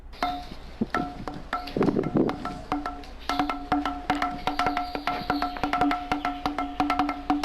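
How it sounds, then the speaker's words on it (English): Stone musical pillar at Vittala Temple in Hampi struck repeatedly by hand, giving a dense series of sharp knocks with short ringing tones in an uneven drum-like rhythm, close and moderately loud. "if you tap this, you will hear the sound of these drums"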